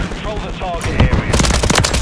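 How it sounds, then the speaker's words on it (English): Machine gun fire in the video game Modern Warfare III rattles out in rapid, dense bursts, loud and close, with shouted voices heard under the shooting. "Taking fire over here!"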